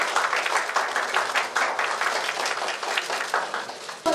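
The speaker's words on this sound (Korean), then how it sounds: "큰 박수 부탁드리겠습니다" Audience applause at an appointment ceremony for a festival ambassador, with distinct individual claps in a lively, fairly close pattern rather than a smooth wash, lasting about four seconds.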